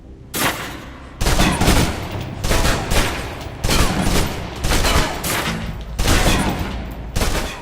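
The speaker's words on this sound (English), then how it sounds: "Now, let's move on to the submachine gun. Now let's empty the clip." Submachine gun in the video game Alpha Protocol fired until the clip is empty, loud sustained bursts of rapid automatic gunfire in several long volleys separated by brief pauses.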